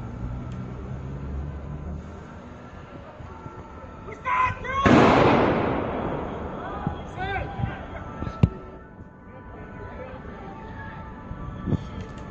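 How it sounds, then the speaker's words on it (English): Gunfire in a Paris street outside a concert hall during an attack: a sharp loud burst followed by a few isolated distant cracks over a murmur of street noise and voices. "here in Paris it's shooting again."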